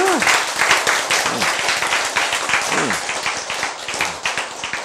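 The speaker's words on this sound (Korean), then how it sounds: "박수!" A church congregation claps together in a lively burst of applause while a speaker's voice rises and falls over it, the clapping continuing throughout.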